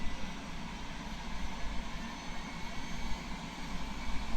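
A Bell 407 helicopter's turbine engine runs with its rotor blades turning. A steady, loud roar with a pulsing low rumble continues throughout, and no one speaks.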